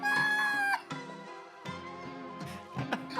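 A chicken-like bird screams and squawks in loud, strained, harmonic cries, one long call followed by several shorter clucking bursts, close and alone.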